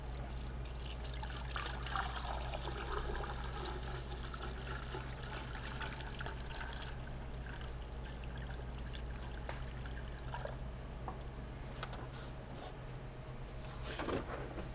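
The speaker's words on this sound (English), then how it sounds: "we're going to inundate and saturate." Water is poured into a soil sample to inundate and saturate it for an expansion index test, giving a steady, continuous trickling and splashing flow, close and moderately loud, with no talk.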